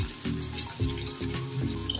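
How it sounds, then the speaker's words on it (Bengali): Green beans fry in a pan of oil for vegetarian fried rice, giving a steady close sizzle with soft periodic scrapes of stirring, alone and without talk. "এর মধ্যে এবার দিয়ে দেবো আমি বিনস,"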